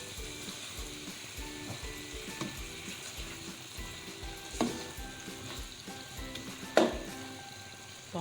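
Spice masala for beef white biryani, with white pepper and cumin powder, frying in a pan with a continuous quiet sizzle, punctuated by occasional scrapes and clinks of stirring and a louder knock near the end.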